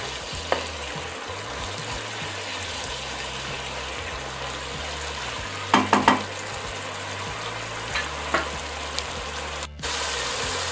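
Peruvian aderezo seasoning paste with ground cilantro sizzles steadily in a pan for seco de pollo, a constant frying hiss with a few soft scrapes of stirring near the middle.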